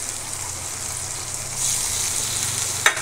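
Capsicum frying in a pan with tomato sauce and chili sauce gives a steady close sizzle that swells slightly partway through, with a brief clink of stirring near the end.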